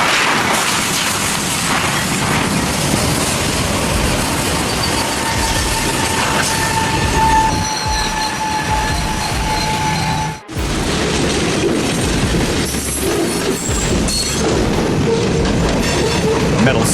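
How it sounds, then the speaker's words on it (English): Loud, continuous rumble of a moving train with high metallic squeals from wheels on steel rails, sustained and close throughout. "A deafening screech ripped through the silence as the train's massive steel mass barreled forward"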